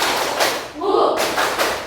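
A classroom of students claps a rhythmic cheer together, sharp thumping claps in quick bursts with a short break in the middle where voices chant.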